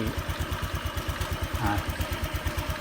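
A motorcycle engine idles with its side stand lowered, a steady close rhythmic low putter and clatter running throughout with no voices.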